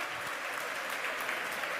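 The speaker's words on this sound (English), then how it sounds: "I have a feeling the crowd's about to go wild here." A large crowd applauds and cheers steadily as a Super Heavy rocket booster lands after a Starship launch, a dense roar of clapping and shouting that holds at a constant level throughout.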